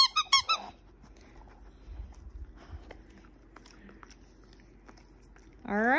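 A squeaky dog toy is squeezed, giving a quick burst of several sharp squeaks, then quiet chewing and rustling, and a final long squeak at the end.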